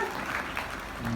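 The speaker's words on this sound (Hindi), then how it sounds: "तालियों द्वारा स्वागत हमारे आदरणीय भ्राता जी का।" A brief burst of steady applause welcomes an honoured guest at a Brahma Kumaris spiritual gathering, filling the whole short moment with dense, even clapping.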